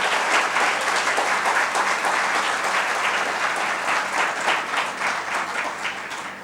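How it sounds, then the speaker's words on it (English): An audience at a Karachi literature festival gives a long, loud round of applause, dense and steady clapping from many hands throughout. "I think this calls for a tremendous round of applause"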